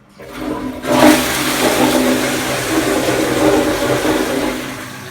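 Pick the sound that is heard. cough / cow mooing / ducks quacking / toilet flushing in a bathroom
toilet flushing in a bathroom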